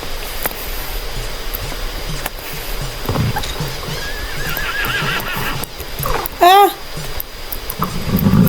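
Horse whinnies in the Star Stable Online game, a rising and falling neigh ringing out clearly near the end of the clip over steady game ambience and hoof clip-clop.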